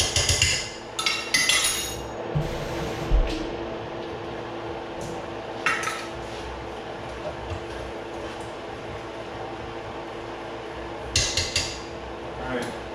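Rice and liquid stirred in a rice cooker pot, a spoon scraping and clinking against the metal in scattered bursts, close and moderately loud over a steady background hum.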